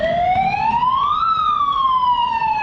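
A loud siren at a train sounds, sweeping upward, peaking, and slowly falling again in a single continuous wail, close and clear.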